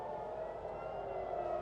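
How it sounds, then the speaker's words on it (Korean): An air raid siren sounds in Tel Aviv, Israel, during a missile attack: a steady, sustained wail held at one pitch throughout, heard from a distance with a broad wash of background noise. "이스라엘의 텔아비브에 울린 사이렌입니다"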